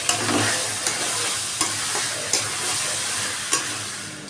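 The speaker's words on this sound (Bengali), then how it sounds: "মশলাটা কষানো হয়ে গেছে, কাবলি ছোলাটা দিয়ে দিয়েছে" Kabuli chickpeas frying in spiced masala in a pan, a steady close sizzle with periodic clinks and scrapes of a spoon stirring every second or so.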